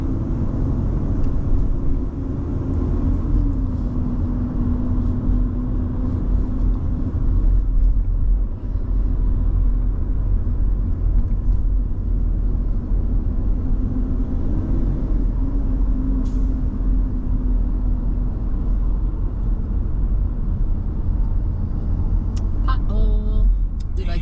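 A car driving on rough downtown Chicago streets: a loud, constant low rumble of the engine and road noise from inside the cabin, with a faint clatter near the end and occasional speech.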